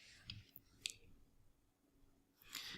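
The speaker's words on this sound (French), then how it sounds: "Et on clique sur envoyer." A few sharp, faint computer mouse clicks, spaced apart in a quiet room, as a send button is pressed on an online form.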